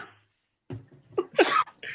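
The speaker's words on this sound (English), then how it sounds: "I had to sneeze." A single sharp sneeze bursts out near the end after a quick breath in, loud and close.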